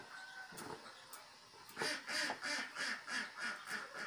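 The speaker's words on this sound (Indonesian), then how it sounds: "Tuh, suara bebek guys." A duck quacks in a rapid series of about eight loud, rhythmic calls after a few faint earlier sounds, close to the microphone with no talk.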